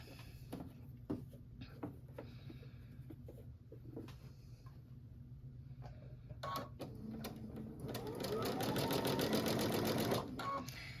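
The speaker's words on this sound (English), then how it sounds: "I'm gonna sew it with a 1/4 inch" A sewing machine runs a quarter-inch seam through bias-cut fabric on a ruffle project. Soft handling knocks and brief starts come first, then a closer, louder stretch of rapid, even stitching near the end.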